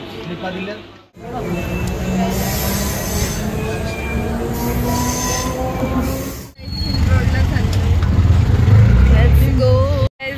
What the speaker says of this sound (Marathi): आणि डायरेक्ट ट्रेनमध्ये बसलोय